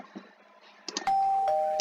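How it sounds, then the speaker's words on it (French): A doorbell from a Minecraft furniture mod chimes in-game, a short two-tone ding-dong that rings out clearly and sustains to the end after a few soft clicks. "Et on va essayer la sonnette parce que j'ai pas essayé."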